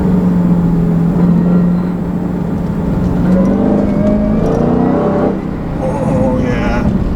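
A 2016 Dodge Challenger Hellcat with a six-speed manual accelerates in second gear, its engine a steady, loud low drone that holds throughout with only slight swells.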